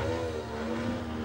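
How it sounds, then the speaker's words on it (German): Propeller engine of a Raven aircraft at a fly-in in Mücke, Germany, a steady droning hum with a strong low tone, sounding loud and close for a brief moment with no talking. "wie ich den Jürgen kenne, zack, an den Propeller gehangen"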